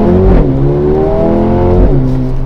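A 2020 Mercedes-AMG CLA 35 Shooting Brake sounds its exhaust with a loud, steady engine drone that dips and climbs through gear changes, heard close and alone.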